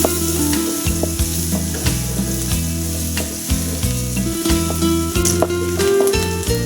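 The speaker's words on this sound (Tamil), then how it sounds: "இப்போ வெங்காயம் நல்லா வதங்கிடுச்சு" Finely chopped medium-size onions sizzle and fry in a pan while being stirred for a bottle gourd poriyal. The frying hiss is loud and continuous, with scraping stirs over steady background music.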